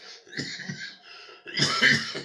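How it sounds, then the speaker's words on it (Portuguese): A person coughs a few times, then a harsher, louder burst of coughing follows, close up with no talking. "Eu já tossi bastante na cara de vocês."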